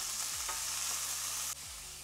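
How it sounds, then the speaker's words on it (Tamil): Kadaknath black chicken sautéing in a pan: a dense, steady hiss of frying oil fills the short stretch, with a low electronic hum underneath and a brief drop in level near the end. "இப்போ நல்லா வதக்கிக்கலாம்."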